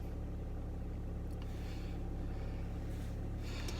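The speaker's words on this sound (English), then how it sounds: "Let me just start the engine." A car engine idles steadily after being started, a low continuous hum filling the cabin with no talk.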